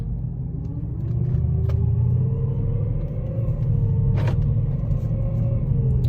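A Mercedes-Benz CLS with straight pipes idles just after start-up, a deep steady rumble close by with a faint wavering tone above it and one or two brief clicks.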